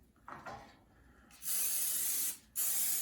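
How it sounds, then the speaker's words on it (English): Non-stick cooking spray applied to a smoker surface before a stuffed meat loaf goes on: a faint rustle, then two loud, close hissing bursts, the first about a second long and the second following after a short pause. "I'm just gonna spray it just so it doesn't stick"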